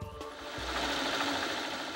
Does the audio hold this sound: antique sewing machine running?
yes